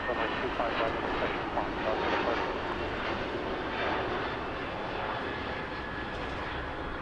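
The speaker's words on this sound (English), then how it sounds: "KLM 602 and lining up to the north 24 left runway for departure back to Amsterdam." KLM flight 602 airliner lined up on runway 24 left at LAX for departure to Amsterdam, a steady broadband engine roar holding even and moderately loud throughout, heard from a distance.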